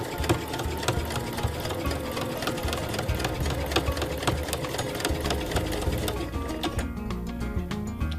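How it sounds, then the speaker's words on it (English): A sewing machine stitches fabric in a fast, steady mechanical rattle of repeated needle strokes, close and continuous for about six seconds before slowing into a few separate stitches. "so I can continue sewing."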